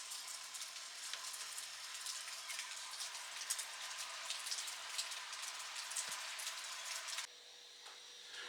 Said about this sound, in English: As it is still raining, I'm not going to go outside